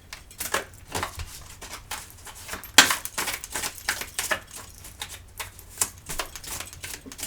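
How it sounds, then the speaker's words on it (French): Tarot cards being reshuffled by hand in a quiet room, a run of quick papery riffles and soft taps with one sharper snap partway through, close and alone without talk. "Je remélange les cartes."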